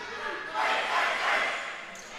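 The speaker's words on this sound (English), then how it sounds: "There's some cheering over there." Cheering from the crowd at a high school volleyball match, a broad wash of voices that swells loudly for about a second, then eases back into a steady background roar.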